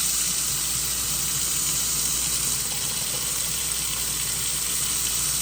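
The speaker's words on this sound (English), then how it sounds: "Because then what we'll do is turn our water back on," Water running steadily from a repaired Delta kitchen faucet, a constant close hiss and rush of flow into the sink with no breaks and no talking.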